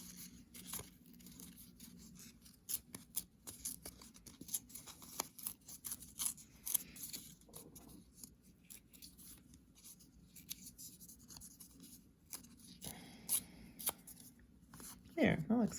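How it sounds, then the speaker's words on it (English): Paper is torn into a heart shape in soft, quiet rips and crinkles, with irregular bursts of tearing and faint rustling throughout. "create a heart shape by tearing some pieces of paper"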